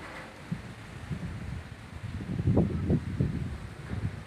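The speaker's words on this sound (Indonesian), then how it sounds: "Angin kencang hari ini" Steady, moderate wind noise buffets the microphone outdoors at a fishing spot, with gusts swelling louder toward the end over a low rustling bed; no speech is heard.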